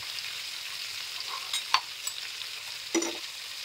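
Whole spices including coriander seeds dry roasted in a pan, a faint dry hiss with a few light scraping and rattling stirs, close and quiet with no one speaking.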